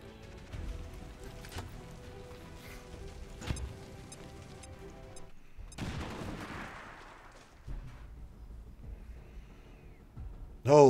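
Gunfire and a frag grenade blast in XCOM 2, with scattered sharp shots and impacts followed by a broad noisy burst midway, then a sudden loud hit at the very end.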